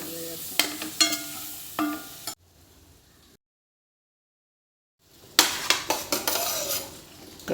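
Cooked chickpeas tipped into a frying pan and stirred, with clanks of a spoon against metal and soft sizzling, then a silent gap before more clattering and scraping resumes.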